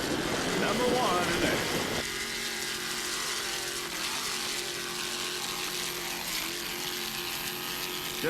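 MRD-powered offshore racing powerboat at the 1998 New Jersey Offshore Grand Prix in Point Pleasant, its engine a steady loud mechanical roar with a rattling, ratchet-like texture, joined by a brief burst of nearby voices early on.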